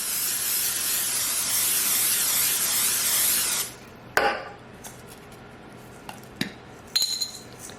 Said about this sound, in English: So we're going to spray.